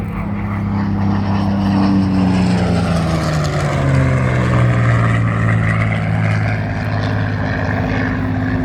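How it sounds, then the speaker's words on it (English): A Supermarine Spitfire Mk IX fighter roars past during an airshow display, its piston engine droning loud and steady while the pitch slowly sweeps down as it passes, with no one talking. "The Mark IX is, as you see here, the highest production version of the Spitfire"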